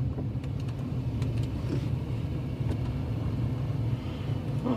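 Steady low road rumble and engine drone from inside a moving car on a drive through Red Hills, Jamaica, continuous and fairly loud with faint cabin clicks and no talking.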